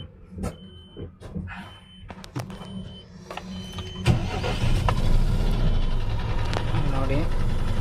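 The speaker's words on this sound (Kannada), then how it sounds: "ಗಾಡಿ ಸ್ಟಾರ್ಟ್ ಆಗಿದೆ." Eicher Pro 3019 AC bus engine cranks and catches around the midpoint, then settles into a steady, fairly loud idle, with clicks and switch sounds before it starts and voices talking throughout.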